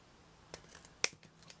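Scissors cutting ribbon for Christmas ribbon angels, two sharp close snips about half a second apart followed by faint handling rustles, no talking.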